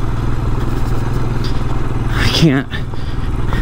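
A Royal Enfield Scram 411 rides off-road in second gear, its single-cylinder engine chugging loudly and close with rattling and scraping from the rough ground; the rider says a few words partway through.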